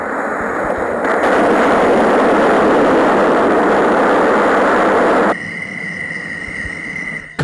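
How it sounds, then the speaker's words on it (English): A sleep sound machine plays its ocean waves setting, a loud, steady broadband wash that roars for about five seconds, then cuts abruptly to a quieter hiss with a faint tone. "Or maybe you want to be at the ocean waves."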